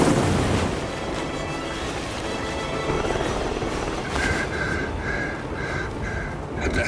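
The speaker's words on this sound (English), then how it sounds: "helicopter just took off" A helicopter lifts off in the video game Hitman 3 with a loud, rushing rotor roar, broad and turbulent, joined later by a rhythmic pulsing whine as it climbs.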